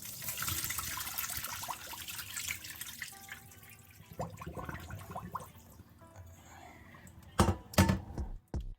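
Water pours and splashes steadily as boiled ackee is strained, ending with a few sharp clanks of a pot or strainer.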